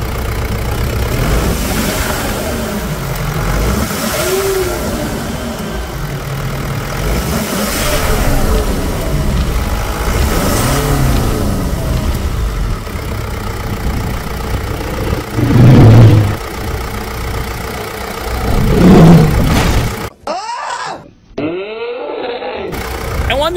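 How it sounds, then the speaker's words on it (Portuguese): A 2018 Mitsubishi Pajero Dakar 3.2 pickup engine idles with a steady, rough rumble up close and loud, rising in several repeated revs. Near the end it cuts out briefly, and voices talk faintly underneath. "A caminhonete é demais. Acelera pra mim aí, Letícia."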